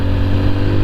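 A TVS Apache RTR 200 4V motorcycle engine runs at a steady, loud, low rumble throughout the brief moment, with no voices.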